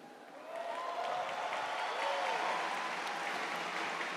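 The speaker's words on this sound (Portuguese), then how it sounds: "Você está aplaudindo, mas pode aplaudir, pode aplaudir." A church audience applauds at a Canção Nova gathering, a dense, steady wash of clapping that swells after half a second and holds evenly, heard from a distance in a large space.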